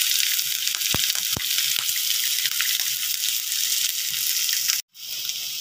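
Small onions with salt fry in a pan for banana-flower poriyal, giving a steady bright sizzle broken by a few sharp clicks and a brief dropout near the end.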